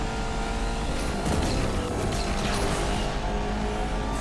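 Bugatti Chiron in the Asphalt 8 racing game, a dense roaring engine and rushing wind during a quick micro drift, loud and continuous with a brief swell partway through.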